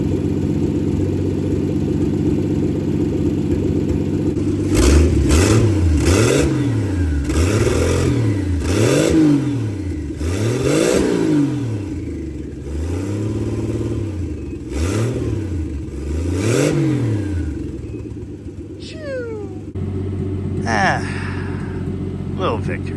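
A turbocharged slant six engine with a freshly overhauled cylinder head runs at idle in a shop, a rough, loping rumble with rhythmic pulses and surging revs throughout, heard close and loud.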